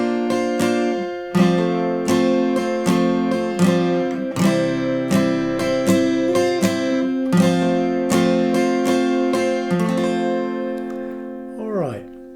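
An acoustic guitar strums a chord progression at an easy pace, with bright repeated strokes and a quick hammered-on note flourish near the end.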